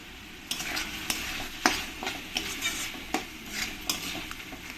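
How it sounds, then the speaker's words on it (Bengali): Prawns are stirred in a pan with salt, turmeric and Kashmiri chili powder for a Bengali-style prawn curry: a rhythmic run of scraping spatula strokes over a soft frying sizzle, close and with no one talking. "দিয়ে একটু সব কিছুর সঙ্গে মিশিয়ে ভালো করে আমি এরকম করে ঘুটে নেব"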